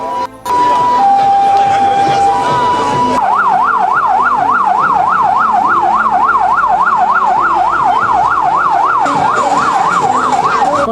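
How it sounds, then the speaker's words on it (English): A loud electronic siren opens a carnival parade in Abuja, beginning with a few steady tones, then switching to a fast rapid wail that warbles continuously, with faint crowd noise beneath. "the sound of the siren signaled the official commencement of the show"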